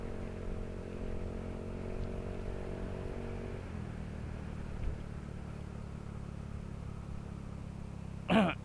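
A small scooter engine hums faintly as the rider shifts from first into second gear, the tone dropping at the shift and settling into a low steady drone, with a brief knock at the end.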